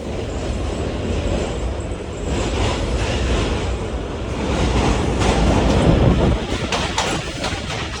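Khushal Khan Khattak Express passenger train rolling over the Malli River bridge, heard from inside a coach: a steady, loud rumble with rattling and clacking that swells slightly midway, continuous for the whole stretch.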